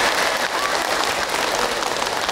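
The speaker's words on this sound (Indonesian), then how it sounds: "Tepuk tangan dong Bu." An audience at an Islamic preaching session applauds, a dense, steady wash of clapping that holds at full loudness throughout.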